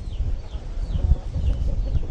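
Small chickens kept alongside rabbits in an outdoor enclosure cluck and chirp in short, fairly close calls over a low rumble of background noise, with no talk.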